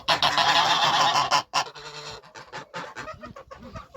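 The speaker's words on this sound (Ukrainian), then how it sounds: "Гусики ось так у нас підросли вже." Half-grown farmyard geese honk loudly and harshly in a dense chorus nearby, then break into shorter, scattered calls and cackles.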